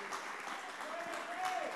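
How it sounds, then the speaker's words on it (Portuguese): A church congregation claps together in a steady, diffuse wash of applause. It sounds somewhat distant and soft, with a voice speaking over it. "Os que estão esperando Jesus voltar, aplaude ao Senhor"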